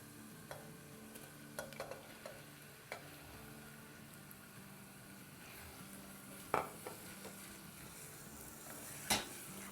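Chopped onions frying in oil with garlic for a lasagna sauce give a steady low sizzle throughout, with a few sharp clinks of a spoon against the pan near the end.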